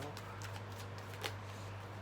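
A deck of tarot cards is shuffled in a quiet room, giving a soft, steady riffling patter close to the listener over a low background hum, with no talk.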